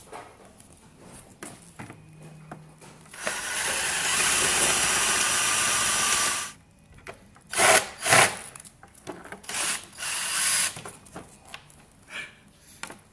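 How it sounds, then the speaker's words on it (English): A 7 mm drill bores into a bolt head on a motorbike's cheap Chinese bodywork panel, a loud continuous grinding whine for about three seconds, then stops, followed by a series of short bursts and scrapes. "So I have a 7 millimeter drill. And that should take the head off, but leave the rest of the bolt"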